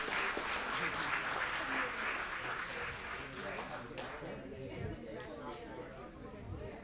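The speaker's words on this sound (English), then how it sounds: "Let's give them a round of applause." School board meeting audience gives a round of applause for newly sworn student board members, fairly faint steady clapping from a room that tapers off midway, with murmured chatter underneath.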